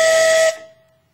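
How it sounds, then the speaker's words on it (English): A loud, shrill compressed-air whistle blast from a 1/3-scale African Queen pedal boat, with a hissing air rush, cuts off sharply after half a second, leaving a fading ring. "Real working whistle."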